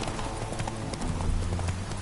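Horse hooves from the Witcher 3 game clip-clop in a steady trotting rhythm on hard ground, close and clear over a noisy outdoor game ambience.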